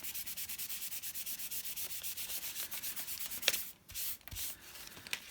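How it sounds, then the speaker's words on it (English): Steady, rhythmic rubbing of a cloth across paper to lift off excess oxide ink, the strokes repeating evenly and close by, then a brief pause and a few final wipes, with no talking. "Let's just wipe some of that excess off."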